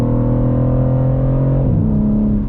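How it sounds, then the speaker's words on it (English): A BMW G80 M3 engine accelerates on backroads with a loud, steady, close-up drone from inside the car. The pitch shifts and drops briefly around two-thirds through, like a gear change, then the engine pulls on. "Now we can finally start driving."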